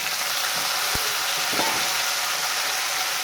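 Potatoes fried with eggplant and ridge gourd sizzle steadily in a pan, a continuous close hiss of hot oil broken by a couple of soft stirring clicks.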